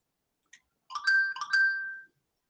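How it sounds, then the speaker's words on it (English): A phone chimes a short notification melody: a couple of faint soft blips, then two bright ringing tones that sustain briefly before cutting off into silence. "I heard that. yeah, that was my phone."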